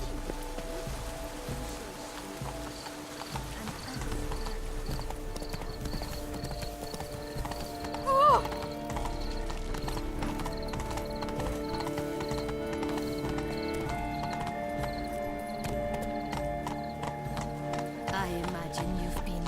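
Horse hooves clip-clop steadily in The Witcher 3: Blood & Wine, a rhythmic stream of soft thuds running for the whole stretch, with a brief neigh partway through over a quiet ambient game backdrop.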